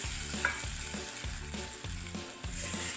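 Curry paste for almond chicken curry fries in a pan over lowered heat, a constant soft sizzle with regular scraping strokes of stirring about every half second, close by and free of speech.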